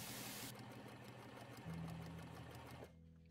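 Sewing machine stay stitching the bust gores of an 1860s-style corset, a steady fast mechanical whir with rapid needle clatter running continuously and fairly close, shifting slightly in pitch partway before cutting off near the end.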